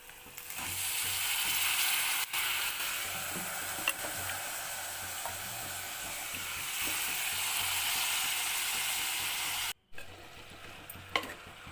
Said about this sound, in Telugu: చిక్కుడుకాయ పీసెస్ కూడా ఆయిల్లో మంచిగా ఫ్రై అయ్యేట్టు చూసుకోవాలి కొద్దిసేపు